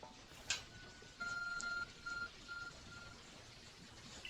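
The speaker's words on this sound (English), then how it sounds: "Your work phone is beeping." A work phone beeps faintly in Pokémon Legends Arceus, a short series of soft electronic tones over a quiet game background.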